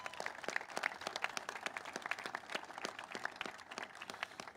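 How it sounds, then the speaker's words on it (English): Audience applause at the Golden 1 Center groundbreaking ceremony, a steady crowd of many hands clapping together without a break, with no talk over it. "So let's give them a round of applause."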